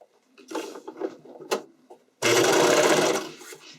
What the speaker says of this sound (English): So I'm going to sew that in.